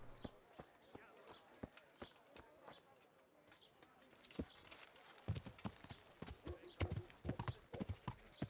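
Horse hooves clatter in the medieval game Kingdom Come: Deliverance, starting as sparse clip-clops and building into a fast, loud galloping rhythm in the second half.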